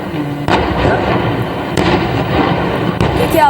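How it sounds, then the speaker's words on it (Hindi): Gas cylinders keep bursting in a burning truck at Loni: three or four sudden loud blasts at irregular intervals over a continuous rumbling din, with faint voices in the background. "एक के बाद एक सिलेंडर फटते चले गए और पूरा ट्रक जलकर खाक हो गया।"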